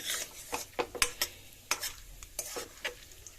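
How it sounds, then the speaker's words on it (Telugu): A light tempering with broken cashew pieces fries quietly in a pan for vegetable parsley upma, with soft sizzling under brisk stirring scrapes and small metallic clinks of a spoon. "మన పోపుని లైట్గా ఫ్రై చేసుకోవాలి,"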